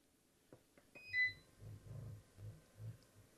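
A few short electronic beeps from button presses on a Snailax shiatsu foot massager, followed by a low, soft pulsing hum that rises and falls in a rhythmic pattern.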